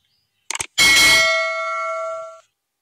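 A phone rings with a single bright, bell-like chime after a couple of quick clicks, the tone sounding loud and close before it fades away over about a second and a half.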